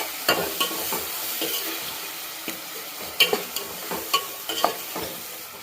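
Chopped tomatoes fry in oil in a pan for a village-style Andhra brinjal curry, sizzling steadily while a spoon scrapes and stirs in irregular knocks.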